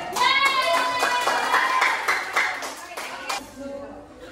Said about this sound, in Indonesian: tepuk tangan untuk speaker